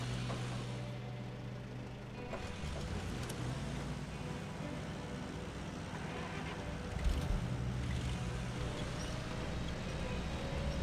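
A truck engine strains steadily in the SnowRunner video game while pulling another truck, a continuous low drone with a slight surge near the middle.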